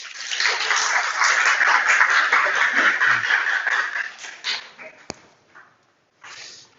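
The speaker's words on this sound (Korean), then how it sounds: "동의하시면 박수 한번 크게 주십시오" Listeners at a financial education lecture clap loudly for about four seconds, then the applause thins into scattered claps, a sharp knock and a brief murmur before a short final burst.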